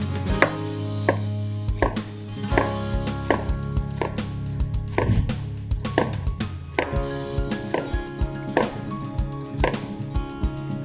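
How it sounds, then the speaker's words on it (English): A knife cuts yellow squash and zucchini into half-inch slices on a cutting board, giving a steady run of crisp, close chops with sharp thuds at an uneven, quick pace and no voices. "now I'm going to cut the yellow squash and zucchini"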